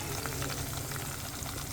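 Garlic frying in hot oil for a fish curry gives a steady, dense, close sizzle that crackles continuously without pause.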